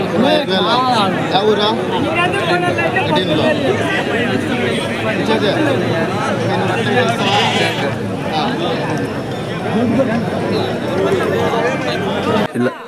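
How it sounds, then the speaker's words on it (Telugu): Sheep, rams and goats bleat repeatedly amid a busy, noisy crowd at a weekly Saturday village market, with constant chatter and babble filling the background throughout. "ఇక్కడైతే గొర్రెలు పొటేళ్ళు మేకలు మొత్తం అన్నీ దొరుకుతాయి"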